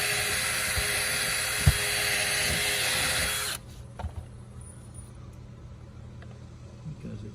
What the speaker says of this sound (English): as you drill a hole, put a screw in.